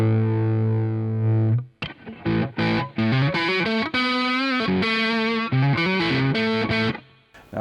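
Overdriven electric guitar through the overdrive channel of a Marshall Valvestate 40V 8040 combo amp: a sustained chord rings out, then a run of choppy, distorted riffs and stabs, loud and close, with no talking.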